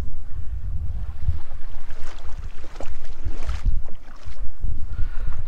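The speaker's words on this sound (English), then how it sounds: "as you can probably hear the waves and the planes circling right now" Waves wash onto a sandy lake beach at Park Point in Duluth, Minnesota, rolling in as irregular broadband surges with low rumbling wind buffeting close to the microphone.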